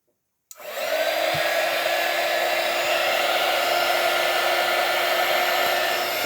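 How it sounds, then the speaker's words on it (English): A handheld heat gun switches on abruptly and blows hot air in a steady, loud, close whirring roar with a constant fan whine, running unbroken after the start. "It has to be a heat gun."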